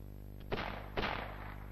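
Two flintlock pistols in a duel fire one after the other, each a sharp, loud report about half a second apart, over a low steady hum.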